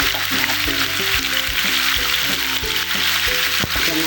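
Chicken pacham ingredients frying in hot cooking oil, a continuous loud sizzle and crackle with occasional stirring clinks, steady throughout.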